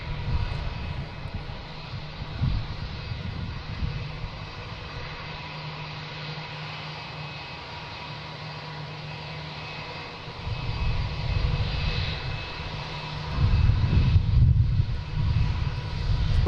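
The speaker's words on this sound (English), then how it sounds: "Lufthansa 747-400, actually 430 to be specific." Lufthansa Boeing 747-400 jet engines on approach to Boston Logan, a distant steady roar that holds low and even, then swells louder over the last few seconds.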